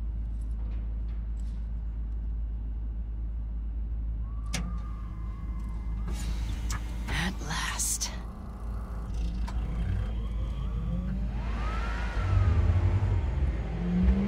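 A car driving in the video game Cyberpunk 2077, its engine humming steadily with a low rumble, a few sharp clicks and a rising rev near the end, under background game sounds and some voices.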